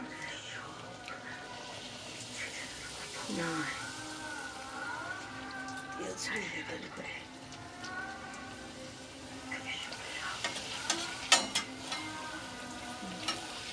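Luchi frying and puffing in hot oil, giving a steady soft sizzle with faint crackles and pops beneath a voice.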